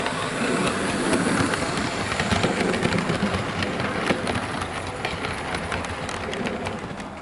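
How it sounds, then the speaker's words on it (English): Hattons SE&CR P Class model locomotive 323 'Bluebell' runs along a model railway track, pulling three Mansell coaches, a steady close rolling rumble scattered with light rhythmic wheel clicks throughout. "I've got her pulling a passenger train with 3 of these Mansell coaches behind her"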